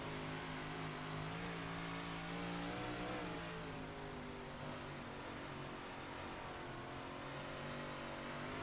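A Big Block Modified race car engine drones steadily while lapping Knoxville in iRacing, a loud, close, continuous roar that rises slightly in pitch and then holds a sustained, throaty tone.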